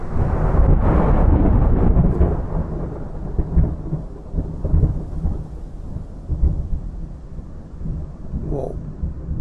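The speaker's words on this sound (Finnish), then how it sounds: "katsotaan, että tuleeko tuo ukkonen päälle" Thunder from a nearby storm gives a long, loud, deep rumble that slowly fades, with rain hissing steadily underneath and a few faint knocks near the end.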